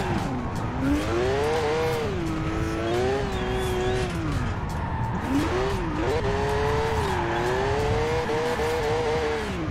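A Toyota GT86 in Forza Horizon 4, tuned to nearly 1000 horsepower with rear-wheel drive, revs hard with its engine pitch rising and falling, joined by squealing tires as it slides, heard continuously and up close.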